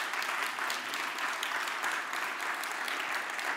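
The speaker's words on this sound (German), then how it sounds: "bitte einen Applaus für Dennis Bruder" Sustained audience applause at a Bavarian digital summit conference hall, a dense, even roar of many hands clapping throughout with no pauses.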